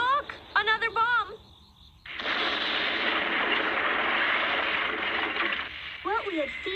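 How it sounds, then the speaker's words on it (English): A bomb goes off in a wartime town, a long, loud roaring blast that sustains for several seconds, framed by voices talking before it and again as it fades. "Look, another bomb."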